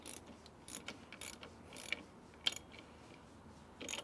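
Metal mounting bolts being tightened by hand on a Hydrovane self-steering gear installation, giving faint, sparse ratchet clicks and taps spread over a few seconds with quiet background between them.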